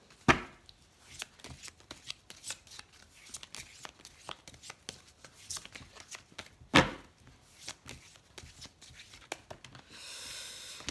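Oracle cards being shuffled for a love tarot reading make crisp, scattered flicks and clicks with a couple of sharper snaps, ending in a brief dense riffle.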